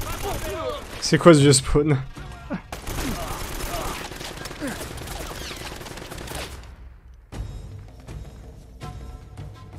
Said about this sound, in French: On va attendre la petite rafale.